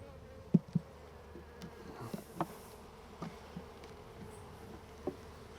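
Honeybees faintly buzzing around an open hive during a weekly August inspection of brood frames, a soft steady hum with a few brief louder passes of individual bees close by.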